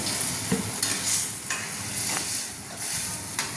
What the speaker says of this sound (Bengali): মা জল ঢেলে দিচ্ছে।